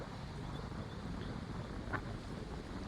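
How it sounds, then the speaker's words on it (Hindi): Steady wind roars against the microphone, a constant broadband rush with no pauses, fairly loud and continuous throughout. "ये तेज हवाओं का शोर है।"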